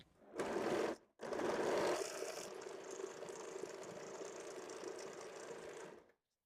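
A sewing machine stitches a blouse, running in a short burst, pausing briefly, then sewing steadily and close for about five seconds before stopping.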